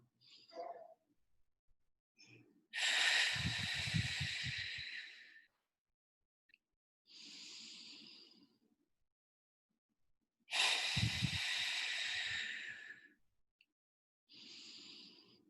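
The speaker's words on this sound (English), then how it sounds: "And trying to double the length of the exhalation." A person does a slow breathing exercise, taking two rounds of an airy inhale followed by a long, drawn-out exhale, each breath separated by quiet pauses and heard close and soft.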